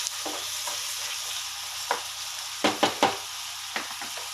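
Tamarind leaf curry fries in a pan under a soft steady sizzle, with scattered scraping stirs of a spoon against the pan, several coming in quick succession partway through.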